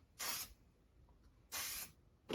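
Two short bursts from a spray paint can, each a loud hiss lasting about a third of a second, separated by quiet; a third burst begins at the end.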